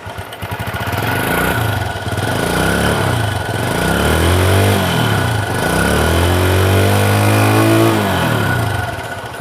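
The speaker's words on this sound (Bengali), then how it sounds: "আসেন আমি গাড়িটা স্টার্ট করে দেখাই" A TVS Star Sport motorcycle with self-start fires up and runs close by. The engine gives a loud, steady idle that swells with a couple of throttle blips.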